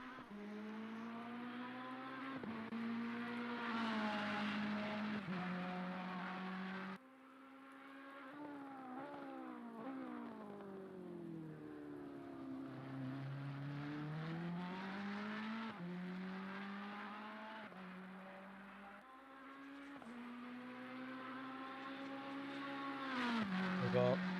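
Ferrari race car engine in a racing game at the Spa circuit, a steady loud drone whose pitch rises and falls through gear changes over a full lap, close and continuous, with brief dips at shifts.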